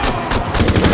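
Rapid automatic gunfire in Rainbow Six Siege, a loud, close burst of quick repeated shots in a steady rhythm.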